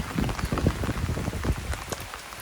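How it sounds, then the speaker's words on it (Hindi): Heavy rain pours on the bank of the Narmada river during a downpour that has lasted four days, a dense, steady patter of drops striking a surface, close and continuous. "घनघोर बारिश हो रही है"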